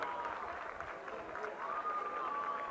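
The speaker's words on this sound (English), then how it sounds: "show how wonderful the spirit at this athletics day is, with the whole crowd cheering on" Crowd at a school track and field championship, a steady distant wash of cheering and applause with crowd noise throughout, a tonal whistle-like line rising above it partway through.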